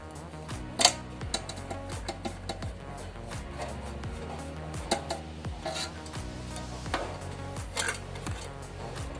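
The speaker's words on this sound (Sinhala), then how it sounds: "මේ ඇණය අපිට ගලව ගන්න පුළුවන් මල්ලි ස්ක්‍රූප්පුනේ ආධාරයෙන් මේ විදියට" A screwdriver works a screw loose on a rice cooker, giving a steady run of small rasping, ticking turns with occasional sharper metallic clicks, close and moderately loud.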